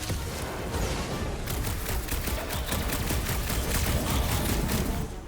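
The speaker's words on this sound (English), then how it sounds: "It's like this thing eats blaster fire" Blaster fire in Marvel's Guardians of the Galaxy video game rattles on in a dense, continuous volley of rapid shots, loud and unbroken throughout with no talking.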